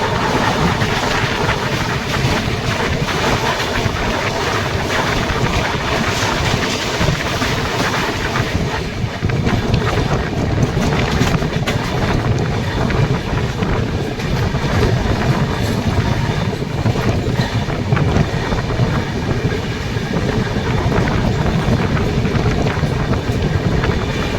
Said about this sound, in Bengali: মহানন্দা নদী সকাল সকাল ট্রেন পার করছে